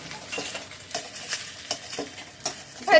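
An egg fries in a pan and is split and turned, with a steady sizzle broken by repeated scraping strokes of a utensil against the pan, close and fairly loud.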